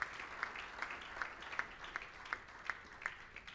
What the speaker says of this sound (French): Acclamons très fort le roi des rois